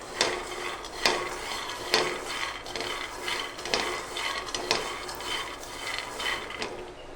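Peanuts dry-roasting in a pan over a medium gas flame while being stirred, with a steady dry rattle and scraping of nuts against the pan and sharper knocks of the stirrer about once a second.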